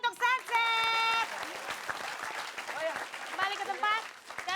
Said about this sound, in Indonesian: tepuk tangan dulu untuk Sunset